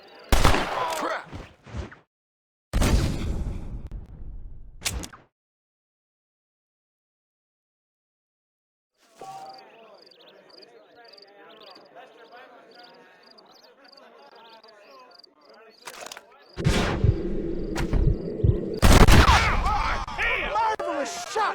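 Sharp gunshots from a Wild West shootout in Red Dead Redemption crack in short bursts at the start and again near the end, with a quiet stretch of ambient game sound between them.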